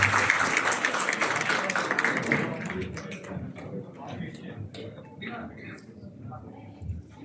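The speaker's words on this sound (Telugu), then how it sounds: "చప్పట్లు కొట్టాల్సిందిగా కోరుతున్నారు" A crowd claps at the inauguration of a ladies' hostel, a dense burst of applause for the first few seconds that thins into scattered claps while a voice speaks over it.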